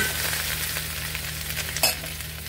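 Sliced cabbage and smoked sausage cooking in a pan, producing a steady, fairly loud sizzle with a faint undertone of bubbling and one brief scrape of a utensil near the end; no speech.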